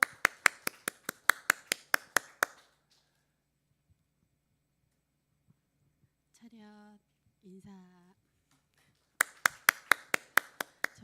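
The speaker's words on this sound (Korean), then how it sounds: "우리 박수로 한번 환영하겠습니다." A church congregation claps in welcome in two short bursts of sharp, evenly spaced claps, separated by a quiet gap in which a voice briefly speaks.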